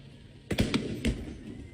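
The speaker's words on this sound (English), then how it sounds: "Firing off fireworks." Fireworks set off at a street gathering during riots in California: a few sharp pops and thuds, about three quick bursts within a second, at moderate distance.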